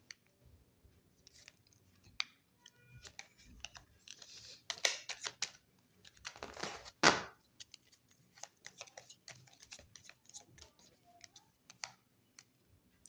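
Tarot cards slide and snap as they are drawn from a deck during a reading, a close series of crisp papery clicks and brushing rustles with one louder swishing shuffle midway, no voices.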